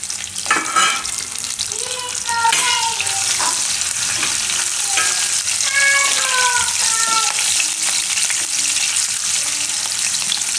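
Garlic with red and green chillies sizzles loudly in hot oil, a steady bright crackle with bursts of stirring scrapes from a spoon in the pan.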